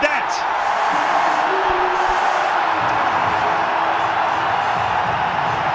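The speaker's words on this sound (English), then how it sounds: "Listen to the crowd, it's a sea of blue, and they're all up." A packed cricket stadium crowd roars in a sustained, dense wall of cheering after an India wicket during a World Cup match, loud and continuous with faint voices over it.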